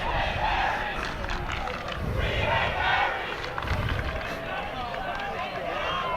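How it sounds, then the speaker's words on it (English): A large crowd at a high school football game in Haverhill roars and chants in loud, continuous waves of massed voices, with shouted cries rising over steady crowd babble. "what was that Hilly crowd chanting?"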